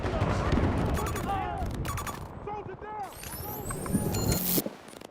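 Rapid video game gunfire crackles and pops in bursts through the whole clip, with a sharp whistling effect near the end and a player's voice speaking over it.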